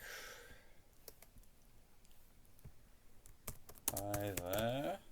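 A reply gets typed on a computer keyboard, heard as faint, scattered keystroke clicks in a quiet room, followed by a brief spoken voice near the end.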